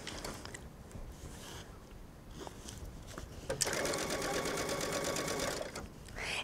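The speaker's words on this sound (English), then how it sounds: "Now I'm going to start at the top and stitch down." A sewing machine stitches facing onto an unlined jacket, starting after a quiet pause and running steadily in a fast, even whir of stitches for about three seconds near the end.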